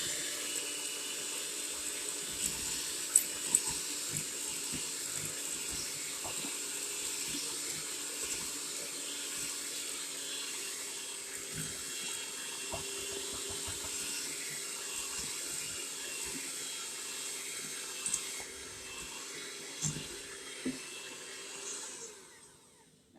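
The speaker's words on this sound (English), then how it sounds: "Turn my beater on here. And little by little you mix this flour in here." An electric hand beater whirs steadily as flour is gradually mixed into apple bread batter, a continuous close motor drone with faint scraping and clicks against the bowl throughout.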